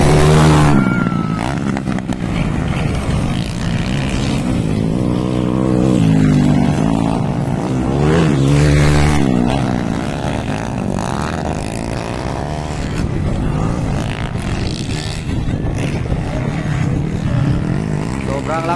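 Underbone 4-valve motorcycles race at a barangay event in Batangan, Valencia City, with engines revving and droning continuously in and out, fairly loud. A commentator's voice runs over the engine noise throughout.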